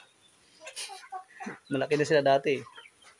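Young chickens being fed on a small farm cluck and chirp softly nearby, mixed with a person speaking over them.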